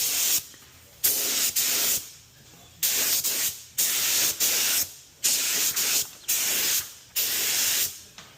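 A spray gun lays a final coat of paint during a Big Block Ford 460 tunnel ram clearance modification, firing in about eight bursts of loud, steady hiss separated by short silent gaps.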